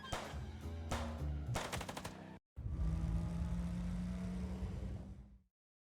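Video game gunfire from Chicken Police: rapid automatic bursts, then after a short gap a longer dense barrage that runs on steadily and then cuts off, with no talking.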